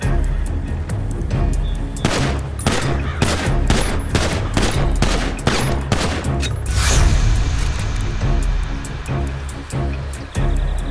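Gunfire in a dubbed crime drama, with rapid bursts of loud shots cracking in quick succession and heavy booming impacts throughout, dense and close with no speech over it.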